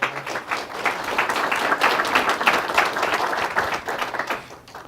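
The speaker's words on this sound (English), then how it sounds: "Let's have a big round of applause." Sustained applause from an audience at a city council meeting, a dense, steady wash of many hands clapping that holds evenly for several seconds before tapering off at the end.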